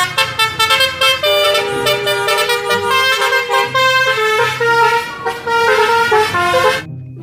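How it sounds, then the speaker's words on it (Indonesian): A toy telolet bus horn plays a loud, bright, melodic honking tune in repeated rising and falling tones, close up and alone, ending abruptly. "Mobil bus telolet, teman-teman."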